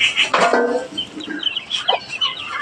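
Native chicks cluck close by in a few short, scattered bursts, with softer chirps in between and no talking.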